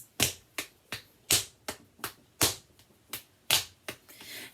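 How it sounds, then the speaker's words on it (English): Hands patting out steady eighth notes, with the strong beats struck louder than the others, about eleven crisp, close slaps in an even rhythm, with no voices. "patting the strong beat a little bit louder."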